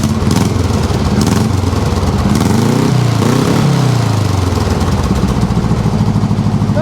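A dune buggy engine runs close and loud with a steady, rapid chugging beat, rising briefly in pitch midway before settling back to a rough, continuous idle.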